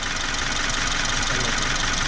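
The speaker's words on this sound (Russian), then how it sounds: "здесь мотор такой, что он, ну, будет шуметь" A car engine running at idle under the hood, a steady continuous broadband hum and rumble with a faint knocking texture, close and unchanging throughout, no voices over it.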